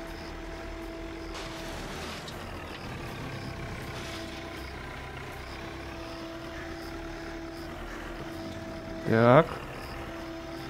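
Steady engine drone of an excavator digging in the video game Construction Simulator, with a low hum throughout, a brief louder clank near the end, and a short spoken word over it.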